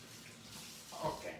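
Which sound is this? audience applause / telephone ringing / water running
water running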